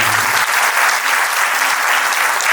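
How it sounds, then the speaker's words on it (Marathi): An audience applauds loudly and steadily, a dense sustained clapping from a crowd at a stage event. "जरा पुन्हा एकदा कडकडून टाळ्या झाल्या पाहिजे."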